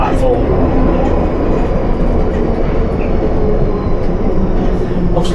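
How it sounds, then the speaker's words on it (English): A Piccadilly Line underground train brakes into King's Cross at night, a loud steady rumble with rattling wheel noise and occasional squeals, while someone talks over it. "so coming down into King's Cross now, he's braking"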